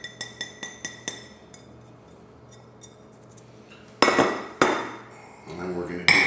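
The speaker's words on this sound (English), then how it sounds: "So we're going to mix that in" Seasoning of garlic powder, salt and black pepper is mixed into ranch dressing in a bowl for macaroni salad: a rapid run of sharp utensil clinks against the bowl, a quiet pause, then louder scraping and clattering strokes near the end.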